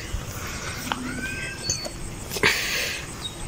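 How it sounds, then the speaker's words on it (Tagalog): A cat gives a few faint meows and cries outdoors, quiet against a low background hiss, with short sharp sounds scattered between. "Ay, pusa oh."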